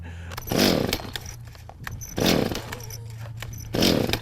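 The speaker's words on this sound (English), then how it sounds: "you can't even crank a chainsaw that's designed to crank itself" A chainsaw engine is pulled and sputters to life three times, each short roaring rev fading back to a low idle putter between pulls.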